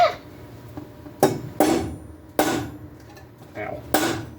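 A hammer strikes a small Craftsman cold chisel on metal in a series of sharp, ringing metallic hits, about six blows spaced irregularly, close and fairly loud.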